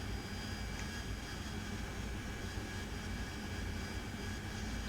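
A Harrier jet in the DCS flight simulator slows to a hover landing, a steady loud turbine roar and whine holding constant throughout, with no voices.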